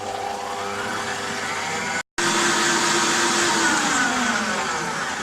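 Electric hand beater whirring loudly and steadily while mixing cake batter for a tea cake, a continuous motor drone with a brief cut partway, then resuming at a shifting pitch.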